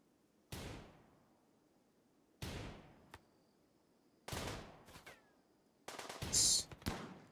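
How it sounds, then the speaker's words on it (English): Shotgun blasts in RimWorld: three sharp reports spaced about two seconds apart, each trailing off quickly, then a denser cluster of shots near the end with a brief high-pitched whine. "Ooh, nice. That shotgun."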